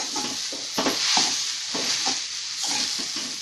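Jaggery and coconut filling being stirred in a pan, a steady scraping swish repeating in loose strokes with a soft continuous sizzle-like hiss underneath, close and fairly loud with no talking.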